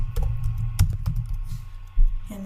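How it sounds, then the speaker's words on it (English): Computer keyboard keys clatter in quick, uneven taps close to the microphone, a short burst of typing with a low background hum. "When you go over here and click create funnel, I just type in test funnel,"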